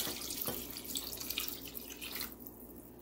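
Water pours into a cooking pot for a Pakistani lamb paya dish, a close continuous splashing stream that runs throughout and eases slightly toward the end.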